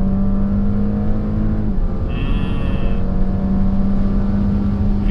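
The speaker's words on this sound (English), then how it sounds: "I'm going to end this in Sport Plus with full throttle." A 2020 Porsche Cayenne Coupe accelerates at full throttle in Sport Plus mode, its engine a loud, sustained droning roar heard from inside, holding steady with a faint high whine partway through.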